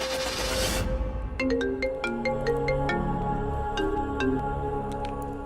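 A phone rings out on an outgoing call, a repeating electronic ringback melody of bright chiming tones in a steady rhythm, clear and close after a brief burst of noise at the start, with no talking.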